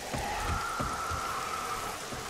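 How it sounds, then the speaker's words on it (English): In the survival game 7 Days to Die, heavy rain pours down as an even patter with a faint tonal hum running through it and a few soft low thuds underneath. "Instead, it's like pouring down rain."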